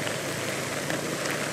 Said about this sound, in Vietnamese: Em thấy ở khu vực huyện Nhà Bè này đang có một cơn mưa tầm tã luôn anh chị, xối xả luôn nè.